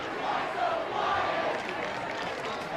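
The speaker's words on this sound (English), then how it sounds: "Crowd obviously getting into it." A crowd roaring at a homecoming rivalry high school football game, Mountain Vista against Thunder Ridge, a steady, distant wash of cheering voices without a break.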